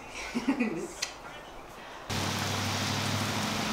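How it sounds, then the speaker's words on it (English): Heavy rain pours down in a dense, steady hiss during flooding, starting abruptly after a stretch of people talking and continuing loud and unbroken. "It's kind of crazy the rain. It's flooded right now."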